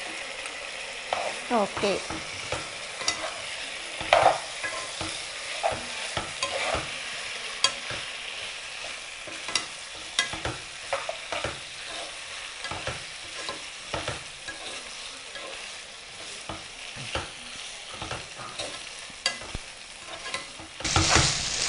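Bone-in chicken fries with green sorrel (chukkakura) in an oily pan, a continuous loud sizzle broken by frequent scraping stirs, with a brief spoken word.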